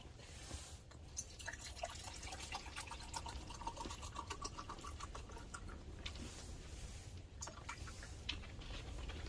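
One cup of water is poured into a cup outdoors while ice fishing in Northeastern Ontario, a faint trickle with small drips and splashes, quiet and close.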